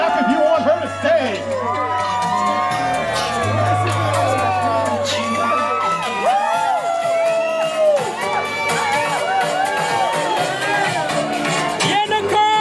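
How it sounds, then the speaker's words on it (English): Spectators at a poolside bikini contest keep up loud cheering, whoops and shouts, with some scattered clapping over a bass-heavy music track that drops out halfway. "Clap if you want her to stay."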